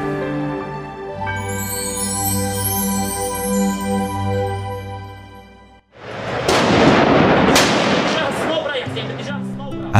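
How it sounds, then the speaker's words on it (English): Loud bursts of gunfire crack and rumble in a war setting, coming just after a sustained musical passage and dense enough to sound like a volley or explosion, close and harsh. "At the sound of gunfire, everyone looks fearful and apprehensive."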